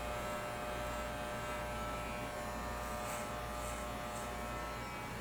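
Electric clippers buzz steadily and loudly through a fox-style cut of a dog's coat, a continuous close hum with slight changes in pitch as the blades move through the fur.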